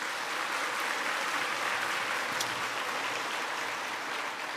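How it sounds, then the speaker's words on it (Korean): A church congregation claps for the choir, conductor and accompanist, a dense, even wash of applause filling the sanctuary throughout with no voices. "박수로 한번."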